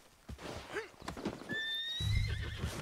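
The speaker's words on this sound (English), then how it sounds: "let's hitch the horse" In the video game Red Dead Redemption 2, a horse neighs with a high whinny while hooves clop and shuffle nearby, followed by a low rumbling noise at the end.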